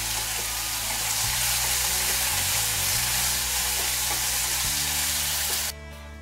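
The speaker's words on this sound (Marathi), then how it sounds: "कांदा आपल्याला चांगला परतून घ्यायचा।" Finely chopped onion sizzles steadily and loudly in a hot pan in a home kitchen, with a low background hum, until the frying cuts off near the end.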